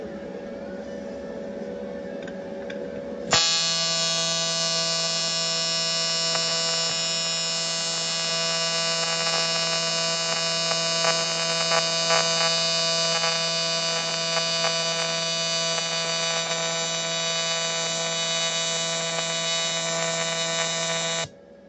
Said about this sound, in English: I'm welding from behind the cameras, obviously.